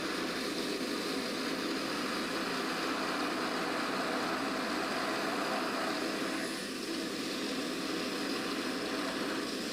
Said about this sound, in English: I had the window open, so there was just a lot of noise from the wind